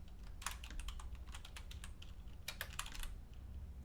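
Fingers type text on a computer keyboard to make personalized office signs, with quiet, close bursts of rapid keystrokes separated by short pauses.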